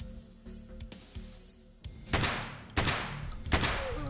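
Heavy 50 BMG shotgun rounds fired in Escape from Tarkov, heard as three loud booming shots spaced about half a second apart, each with a trailing rumble, after some quieter thumps.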